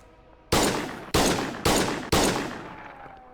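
Four loud, sharp gunshots ring out in the video game Schedule 1, spaced roughly half a second apart, each with a decaying echo tail.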